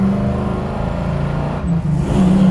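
A 1969 Chevrolet Camaro RS/SS Pro-Touring with a 572ci engine pulls away, its loud, steady V8 roar building slightly near the end, close and without talk.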